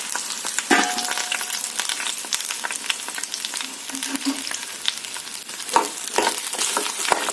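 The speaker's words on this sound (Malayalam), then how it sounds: "ഞാൻ അതിലേക്ക് നമുക്ക് ഈ വെണ്ടയ്ക്ക ഇട്ടൊന്ന് വഴറ്റി വേവിച്ചെടുക്കാം." Okra sautéing in a spoonful of hot oil, a steady close sizzle broken by clattering stirs and scrapes of a utensil against the pan at irregular intervals.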